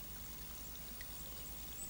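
Water streaming out of a squeezed military water container at a base camp, a soft steady trickle and pour running continuously at low level, fairly close, with no talking.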